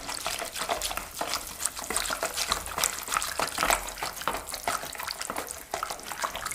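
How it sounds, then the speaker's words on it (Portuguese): A whisk works flour into eggless, milk-free homemade bread dough in a bowl, giving a steady run of wet, sticky slapping and stirring strokes, close and continuous. "vou colocando a farinha e vou misturando"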